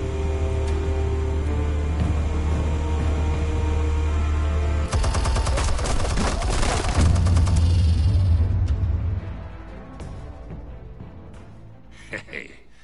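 Gunfire in the Telltale Batman video game, rapid bursts of shots and rumbling explosions over a loud droning score, dense and continuous before fading to quieter ambience.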